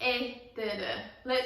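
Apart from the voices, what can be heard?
No everyday noises stand out.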